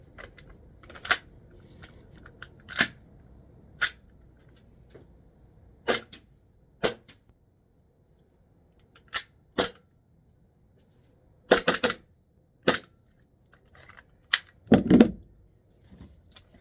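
A Kizuna Works KW-15K airsoft pistol dry firing: a series of sharp, isolated mechanical clacks at irregular intervals, a few doubled, with near silence in between.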